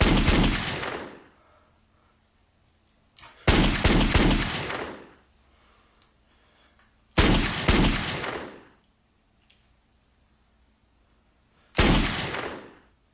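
Video game gunfire comes in four loud, close bursts of rapid automatic fire, each lasting a second or two and separated by short pauses of near silence.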